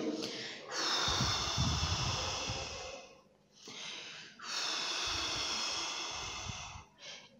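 A teacher imitates wind with her mouth for young pupils, blowing two long, close, breathy whooshes with a low rumbling undertone, separated by a brief gap.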